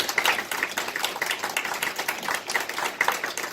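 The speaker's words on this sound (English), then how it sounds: "let's give all the teachers a wonderful applause for what they've done" Audience applause for adult-education language teachers: steady, moderately close clapping from a group, many hands patting in a dense, even patter that holds through the whole stretch without talk.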